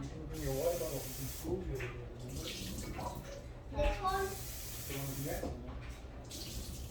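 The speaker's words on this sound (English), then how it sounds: "I'm just rinsing this out right now." Drained canned chickpeas are rinsed under running water, a steady close hiss and spatter of the stream, with someone talking over it.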